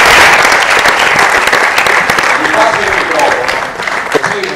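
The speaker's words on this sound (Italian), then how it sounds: "io innanzitutto facciamo un applauso." An audience at an event in Atri bursts into loud, close applause for an author presenting a book, the clapping strong at first and gradually thinning, with a voice speaking over the end.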